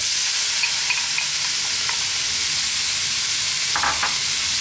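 Onions hit hot oil for a kingfish curry and crackle in a loud, constant sizzle, with a couple of brief utensil taps near the end and no voices.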